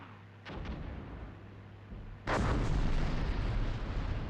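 A BMP fires at a Flakpanzer in Armored Brigade 2, two distant artillery-like reports, the second a louder, heavier blast with a long rumbling decay.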